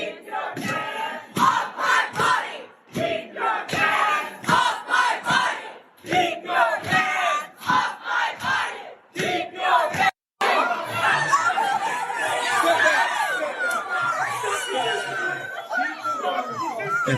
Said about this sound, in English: the crowd got bigger and bigger throughout the day